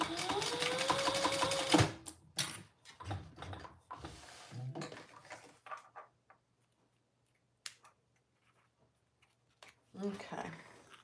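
Sewing machine basting a dart in place on a fabric traveler pouch, its steady stitching run loud for about two seconds, then scattered clicks, fabric handling and short bursts of activity with long quiet gaps.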